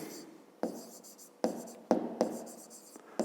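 Pen writing by hand on paper, a quiet series of short scratching strokes with sharp starts, about six or seven marks spaced irregularly, close and soft with nothing else over them.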